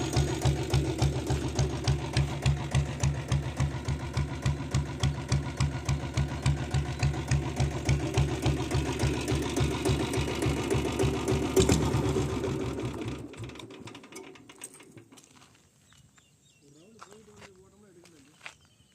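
A 7.5 HP self-start diesel Royal Enfield Bullet engine idles nearby with a steady, loud single-cylinder thump for about thirteen seconds, then shuts off and fades to quiet.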